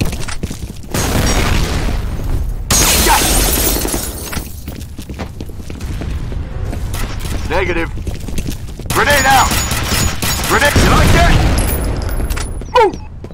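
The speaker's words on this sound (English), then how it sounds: "Grenade out." Grenade blasts and bursts of gunfire in the F.E.A.R. Combat multiplayer shooter, loud repeated booms and volleys over several seconds, with players talking over the combat.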